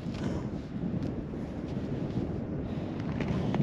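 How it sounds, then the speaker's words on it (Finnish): Steady wind rumbles across the microphone on an ice fishing trip, a constant low roar that barely changes over the few seconds. "Tuuli taas tympeää."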